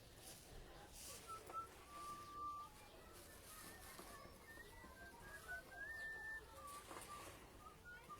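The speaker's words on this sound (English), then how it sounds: "This lovely man collecting the rubbish is whistling" A man collecting rubbish whistles a wandering tune outdoors on a sunny walkway in Taormina, Sicily, several thin sliding notes rising and falling over a quiet background of birds and street ambience.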